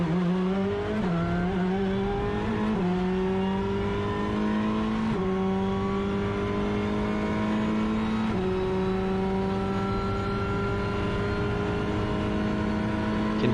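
Race car engine in Assetto Corsa Competizione at a cold Zandvoort, with the tyres graining. The engine revs rise and drop with each gear change, and a steady vibration runs underneath. It is loud and constant, with no talk.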